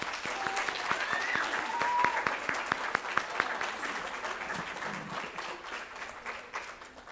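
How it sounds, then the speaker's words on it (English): Sustained applause fills a school board meeting room after a students' stage performance, dense moderate clapping from a seated crowd with a few distinct sharp claps and faint voices underneath, easing slightly toward the end. "Wow, another round of applause for our students."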